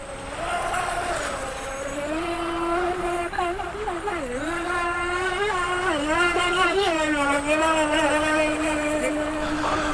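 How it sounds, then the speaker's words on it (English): A radio-controlled model boat's small motor whines steadily on the water at Gorleston-on-Sea, shifting pitch as it speeds up and slows, buzzing continuously for the whole stretch without any talk. "we're going to have a look at this rotor controlled boat that's going around"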